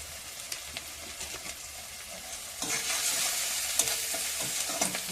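Spice paste with chili powder frying in a pan while it is stirred. A soft sizzle grows louder and fuller partway through, with scraping stirs on top.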